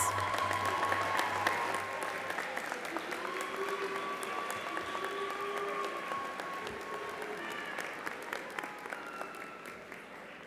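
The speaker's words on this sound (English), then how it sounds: "give them a great round of applause" Graduation ceremony crowd in a large hall gives sustained applause, a soft, even roar of many hands with a faint crowd murmur and a few voices underneath.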